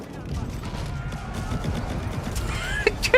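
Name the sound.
incendiary shots fired by units in a strategy video game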